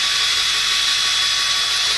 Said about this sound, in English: I use a little drill with a driver on there